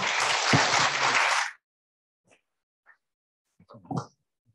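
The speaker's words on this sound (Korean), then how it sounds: "박수로 환영해 주시면 감사하겠습니다." An audience at a quantum research workshop breaks into a burst of dense applause that stops abruptly after about a second and a half, followed by near silence and a few small knocks and rustles.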